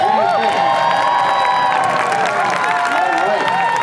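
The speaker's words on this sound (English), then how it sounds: "Round of applause." Audience at an outdoor Tuba Christmas concert applauding and cheering, a steady loud wash of clapping with whoops and shouts throughout, no music playing.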